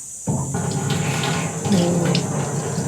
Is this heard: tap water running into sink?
yes